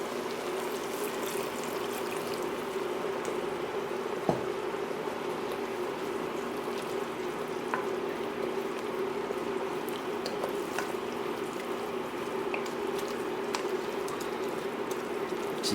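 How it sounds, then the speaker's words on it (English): Pasta water trickles and sizzles steadily in a pan holding a garlic and oregano mixture, a faint, continuous bubbling hiss with occasional small pops. "Got a little bit more of that pasta water in."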